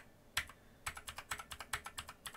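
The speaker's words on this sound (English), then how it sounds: "I can do the same thing on the keyboard." A computer keyboard's keys are pressed one after another to move through a gamepad-style menu, giving a steady series of about a dozen crisp, close clicks with no talking.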